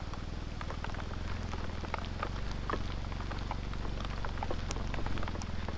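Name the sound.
heavy rain during motorcycle ride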